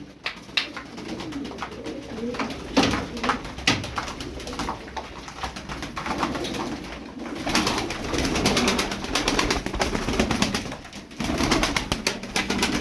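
Arab tumbler pigeons coo continuously at close range in a loft, layered rolling calls mixed with scuffling and occasional wing flaps.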